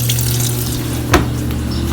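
An automatic washing machine under leak repair refills with water, a steady loud rushing flow with a low mechanical hum and a brief sharp click partway through.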